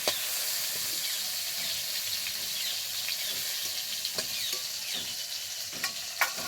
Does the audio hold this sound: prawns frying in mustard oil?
yes